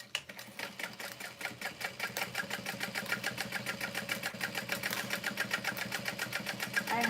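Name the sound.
sewing machine stitching leather handles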